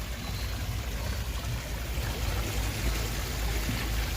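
Steady, soft trickling and splashing water from a small garden water feature with koi and turtles at a Las Vegas plant nursery, a continuous gentle wash with no talk.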